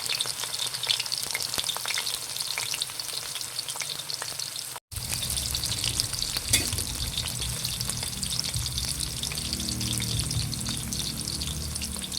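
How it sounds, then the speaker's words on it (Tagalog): Carrots and other vegetables fry in a hot pan for chicken menudo, giving a loud, continuous close-up sizzle that cuts out for a moment and then resumes steadily, with no talking. "ipiprito ko na nga po pala yung gulay. Yung carrots."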